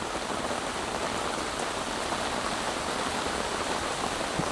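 Heavy rain pours steadily at a campsite on a farm, a dense, even hiss of drops drumming on surfaces, close and constant throughout with no voices.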